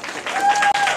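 A crowd bursts into dense, steady applause to welcome the singer at a live music show, loud and close for a brief second.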